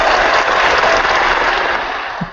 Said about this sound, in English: that applause was amazing